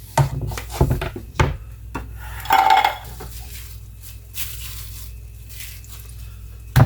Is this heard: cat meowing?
no